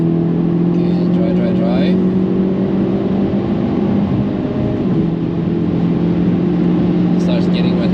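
A Hyundai Elantra N on the Nürburgring track in mixed wet and dry conditions gives a steady, loud in-cabin engine drone with sustained tonal hum, and the pitch shifts slightly partway through.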